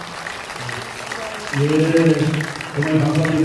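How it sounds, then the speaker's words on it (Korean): Audience applause at a Korean talk concert, a steady patter of clapping running throughout under a voice speaking over it. "큰 박수 좀 부탁드립니다."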